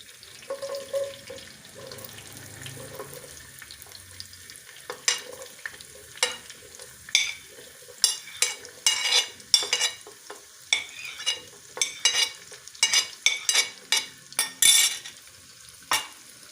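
Onions dropped into hot oil for a commercial dhaba-style chana dal: quiet background at first, then repeated sharp sizzling bursts and stirring clatter that grow busier, close by and with no talking.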